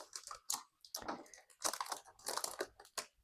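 Plastic packaging for a Sprigatito Pokemon model kit is cut and torn open up close, giving a run of crisp crinkling, crunching bursts with short pauses between them, and no one speaking.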